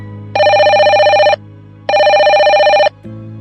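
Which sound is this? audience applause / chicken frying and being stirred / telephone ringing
telephone ringing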